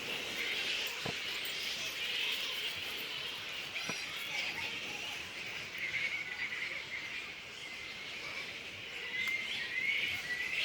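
A dense, continuous chorus of birds squawking and calling while fighting in a tree, loud and close throughout, with sharp cries rising above the steady din.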